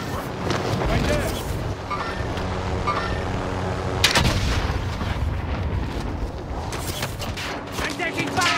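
Gunfire in the video game Call of Duty: Modern Warfare Warzone, steady bursts of shots with a louder impact partway through, mixed under a player talking throughout.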